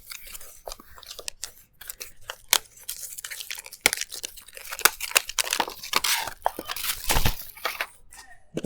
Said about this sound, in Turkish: Evet arkadaşlar hızlı bir şekilde kutumuzu açalım